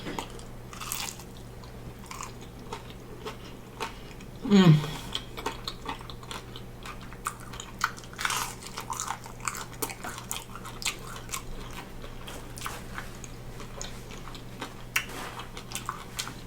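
One sharp, close bite into a Flaming Hot Cheeto rice cake, followed by soft, intermittent chewing and crunching over a quiet room hum, with no talking.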